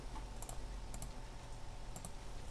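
Numbers typed on a computer keyboard during network access point setup, a short run of light, quick key clicks in a quiet room, close to the microphone with no talking.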